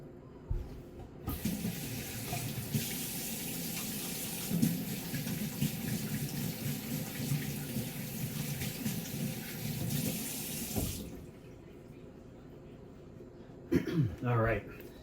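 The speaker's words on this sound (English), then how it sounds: "now we're going to toss out these eggs and we're going to wash our hands" A kitchen tap runs in a steady, close rush as hands are washed after handling eggs, then shuts off; a voice speaks briefly.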